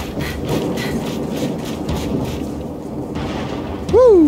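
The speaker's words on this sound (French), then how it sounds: "Wouh, il va y avoir une tempête." A thunderstorm in the Gears 5 video game rumbles low and steadily with a rain-like wash, fading slightly before a sharp tonal game sound cuts in at the end.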